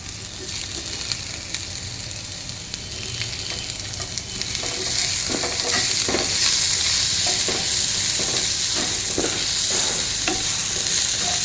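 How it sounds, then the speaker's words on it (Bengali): Tomatoes frying in a pan with browned onions, garlic and ginger for chicken tikka masala, a steady broadband sizzle that grows louder midway, with intermittent stirring scrapes, close and continuous with no talk. "ভালো করে টমেটোগুলো ফ্রাই করে দিতে হবে"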